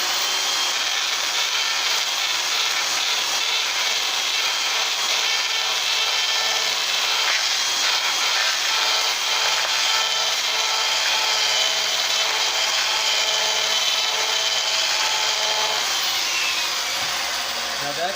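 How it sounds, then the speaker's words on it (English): A chainsaw makes a sideways slough cut, sweeping side to side to smooth a wood carving; a steady, loud, high buzzing saw tone runs continuously throughout without pause. "the other cut that I want to show is called the sideways cut, or the slough cut, which is smoothing"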